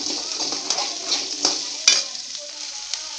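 Ginger, onion and curry leaves sautéing in a pan, a close, bright sizzle with light scraping stirs and a sharp utensil knock midway, no talking.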